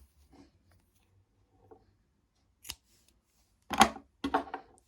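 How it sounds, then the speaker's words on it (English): Scissors snip through crochet yarn in a few quiet, separate cuts, faint early then two sharper closer snips near the end, with no talking. "we'll cut the yarn here"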